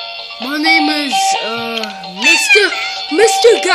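A robot toy cat gives a string of electronic, pitch-bending meows, close and loud, several calls in quick succession with brief gaps between them.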